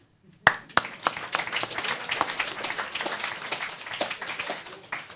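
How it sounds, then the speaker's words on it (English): Room full of vendors at a negotiation gathering breaks into loud, sustained applause after a couple of sharp opening claps, steady dense clapping continuing to the end with no talk over it. "Can we have a round of applause for the people who are the best negotiators in the room?"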